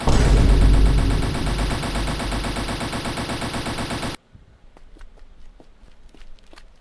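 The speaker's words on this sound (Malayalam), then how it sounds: "എടാ നമ്മളെ വെടി വെച്ചിട്ടടാ റിപ്പബ്ലിക്കനിൽ പോയപ്പോ" Rapid gunfire in a video game, with loud sustained automatic bursts that cut off abruptly. Sparse clicks and taps follow at a lower level.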